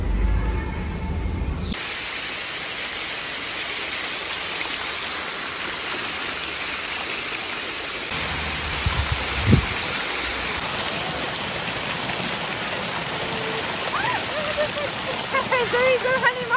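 Small river stream at Konoko Falls Park in Jamaica, a steady close rush and splash of flowing water running throughout, with brief bumps and some talk faintly mixed in.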